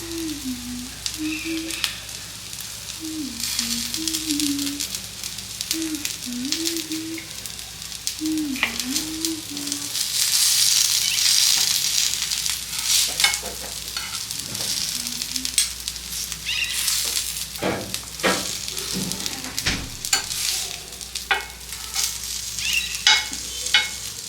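Curry leaves sizzle in hot oil while fish fries in a pan, a steady dense crackle throughout with occasional stirring scrapes and a cat meowing repeatedly in the background.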